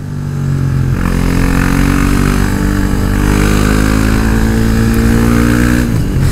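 A motorcycle engine revs up through the gears, its pitch climbing steadily after a quick shift, loud and close with no talking.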